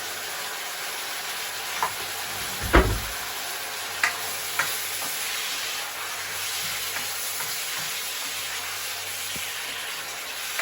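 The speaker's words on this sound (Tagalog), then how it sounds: "Hintayin lang natin siyang kumulo ng kumulo." Chicken with tomatoes simmering in a pan, giving a steady close sizzle and bubbling hiss, with a few sharp utensil taps and clinks scattered throughout.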